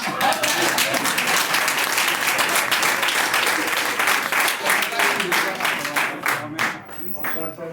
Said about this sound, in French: Vous avez fini d'applaudir ça?